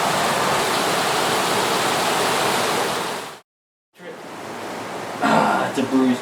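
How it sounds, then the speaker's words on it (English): Heavy rain pouring down outside a home in Juayua, El Salvador, a dense loud hiss that cuts out briefly, then resumes with a faint cough or voice near the end. "we made it home just in time before the rain started"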